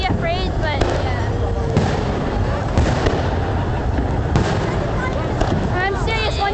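Fireworks bursting over Central Park, a dense run of loud booms and crackles going on without a break, with crowd voices and talk mixed in close by.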